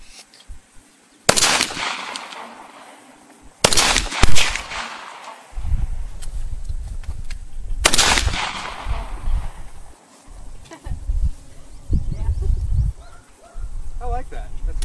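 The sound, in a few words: gunshots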